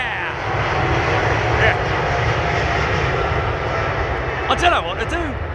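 Air India jet airliner engines roar steadily and loudly near a runway for the whole stretch, with a brief voice or two breaking in over the noise toward the end.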